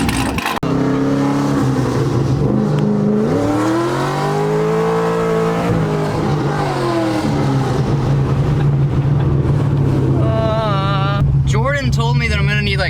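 Corvette with a stage 3 cam idling and revving, its choppy, loping exhaust pulsing loudly close by while a voice talks over it and engine pitch rises and falls in sweeps.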